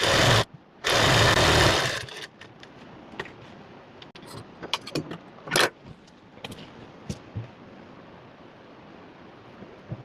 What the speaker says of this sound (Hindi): और अब इसका हम बैक वाला आसन जॉइंट करेंगे और इसकी फिटिंग वाली सिलाई लगाकर कंप्लीट कर देंगे